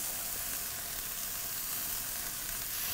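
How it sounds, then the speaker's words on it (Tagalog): Carrots sizzle steadily in a hot pan as they join a vegetable sauté, a continuous bright frying hiss held close and even throughout with no talking. "Then I add my carrots."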